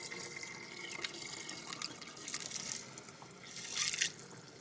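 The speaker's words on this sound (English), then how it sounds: "I'm going to take my fresh batch of kombucha and I'm going to pour that bad boy through my little Medela deal" Fresh berry kombucha poured through a small strainer, a continuous close liquid splash and dribble that grows a little louder toward the end.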